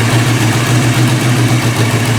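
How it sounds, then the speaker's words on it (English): A heavy truck engine with a TH400 transmission idles steadily and loudly up close, with a rhythmic low throb throughout. "It's idling really good."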